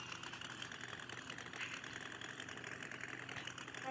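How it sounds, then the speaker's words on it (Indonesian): A motorbike engine idles in the video game DCADH, a steady, even mid-pitched putter that runs unbroken for a few seconds without talk. "jadi aku pakai motor deh"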